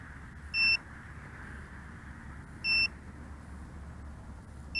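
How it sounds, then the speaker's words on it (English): A VIFLY Finder V2 drone buzzer in its low-volume pre-alarm stage, giving short, high, evenly spaced beeps about two seconds apart over a low background hum. "it's going into that 30-second pre-alarm stage where it is beeping at a low volume"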